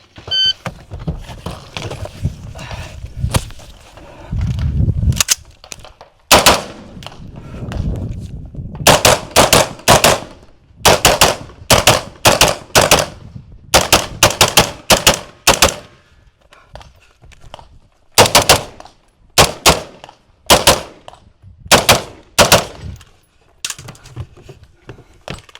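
Sharp, loud gunshots at a multigun shooting competition, fired in rapid bursts and clusters with short pauses between strings, echoing outdoors, a few voices faintly heard early on.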